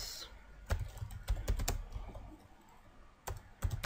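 Keys clatter on a computer keyboard while HTML heading code is typed, arriving as irregular close-up bursts of sharp clicks separated by short pauses.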